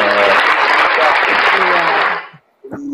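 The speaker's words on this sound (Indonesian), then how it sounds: "kasih tepuk tangan dulu untuk nabi laki-laki." Audience applause, a dense loud wash of clapping with voices mixed in, stopping abruptly near the end before a voice resumes.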